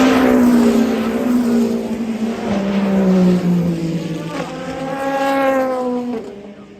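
A number 8 Toyota Le Mans prototype race car screams past at the 2023 Le Mans 24 Hours, its loud engine note rising then falling in pitch as it passes close by and fades away.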